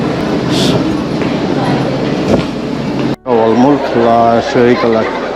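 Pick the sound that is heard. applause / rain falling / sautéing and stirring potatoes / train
train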